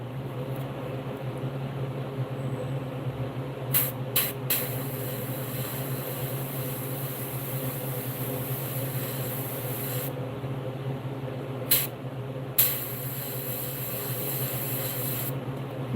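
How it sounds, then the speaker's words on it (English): An airbrush sprays paint onto a batch of golden shiner fishing lures, a steady faint hiss running throughout, broken by a few short sharp clicks and brief pauses. "I'm just going to do like a mass production spray real quick."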